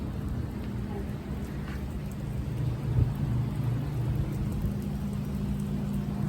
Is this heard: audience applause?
no